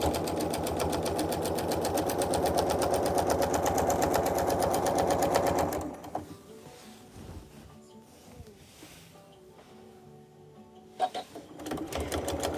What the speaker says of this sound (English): I'm just going to keep this line of stitching lined up as best I can with the seam in my quilt top